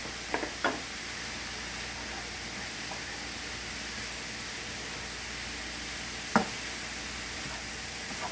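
Keto cauliflower fried rice sautés in a pan with a steady, even sizzling hiss throughout, broken by a few brief utensil clicks and taps.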